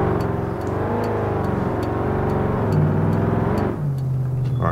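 A Dodge Hellcat in the BeamNG driving game drones along with a steady engine note that swells and eases as it heads to a drag strip, ending with a shift down in pitch.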